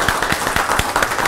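An audience applauds at an awards ceremony, a dense, even patter of many hands clapping at close range, brief and steady with no talking over it.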